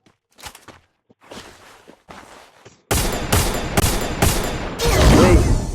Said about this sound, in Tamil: ஸ்னைப்பர் ஸ்கோப் வச்சு அடிக்கிறான் அந்த பையன்.